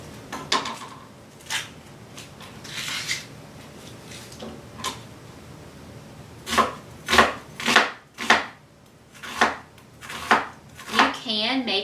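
Half a sweet onion is chopped on a cutting board: crisp knife strikes, sparse at first, then quicker and louder in a near, steady rhythm, with a brief voice at the end.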